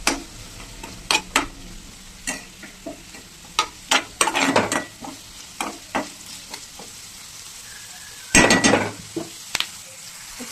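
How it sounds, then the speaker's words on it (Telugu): Chopped onions fry in oil in a pan as a liver fry is being cooked, a low steady sizzle broken by sharp, irregular scrapes and clinks of a spoon stirring against the metal. "ఆనియన్ వేసి దీనికి బ్రౌన్ కలర్ వచ్చే వరకు వేసుకుందాం."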